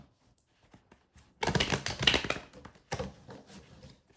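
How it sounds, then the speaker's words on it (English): A deck of cards is shuffled in quick riffling bursts with crisp rapid flutters and taps, close and fairly quiet, with short pauses between the passes. "Man, these cards do not want to shuffle."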